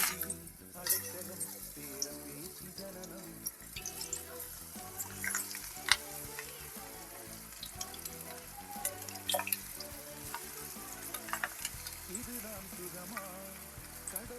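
Small pakoda-like dollops of vada batter fry in hot oil for a Chennai-style vada curry, a quiet, continuous bubbling crackle dotted with sharp pops and clicks.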